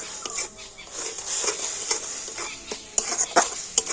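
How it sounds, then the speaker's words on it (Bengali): Powdered sugar and grated coconut are stirred in a pan for laddu, with a soft sizzle under repeated close scraping strokes of a utensil against the pan, moderately loud and unaccompanied by speech. "এই সমস্ত কিছু এখন আমি একটু কন্টিনিউ কিন্তু ভালো করে নাড়াচাড়া করে নেব"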